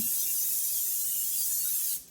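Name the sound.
cooking spray sprayed into a 9x13 baking pan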